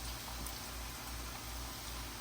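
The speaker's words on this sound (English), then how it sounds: "You can notice that the chips are frying immediately" Plantain and potato chips fry in hot oil, a soft continuous crackling sizzle like fine rain, faint and steady with no voices.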